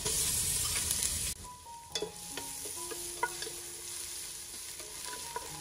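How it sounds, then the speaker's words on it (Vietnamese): Shallots and garlic hit hot cooking oil in a pan with a loud burst of sizzling, then settle into a quieter fry with scattered light clicks of stirring. "đợi dầu nóng rồi mình cho hành tỏi vào phi thơm"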